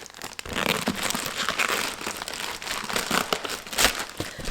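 Package holding a Chanel GST bag being cut open during an unboxing, giving close, continuous crinkling and crumpling of wrapping with sharp tearing bursts and no talk.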